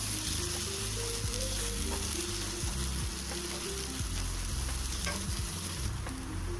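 Steady loud sizzling of onion, pointed gourd seeds and garlic paste frying in a hot pan, continuous crackle with occasional stirring scrapes, with soft music playing underneath.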